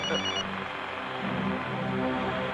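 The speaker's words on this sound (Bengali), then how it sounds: "সারাদিন ধরে ফোন বাজে" A telephone rings in a police station, its repeated bell tone sitting under a dense, loud film-scene soundtrack.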